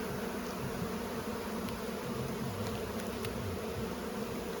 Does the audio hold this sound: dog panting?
no